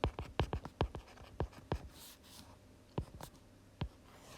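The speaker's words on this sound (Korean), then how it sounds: "선생님이 써볼게요." A teacher writing on the board during a first-grade class lesson: a series of sharp, dry scratching strokes in quick irregular bursts, some clustered and some spaced apart, close and fairly quiet with no talk.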